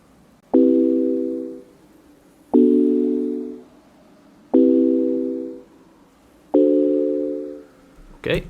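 Four evenly spaced chords from the KIA Movement synth's Wind Marimba preset, each striking with a percussive attack and then decaying over about a second, played alone with quiet gaps between them.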